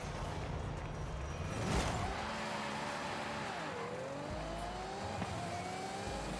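Race car engine in a racing video game, a steady loud drone with pitch sweeping up and down through gear changes and one brief louder burst, continuous throughout with no talk.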